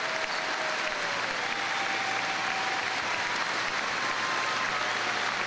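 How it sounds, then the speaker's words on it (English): A basketball crowd at the North Shore Event Center gives sustained, dense applause for a player's final home game in the NBL. The clapping is loud and even throughout, with a faint tone running underneath and no clear talk. "he gets a well-deserved round of applause"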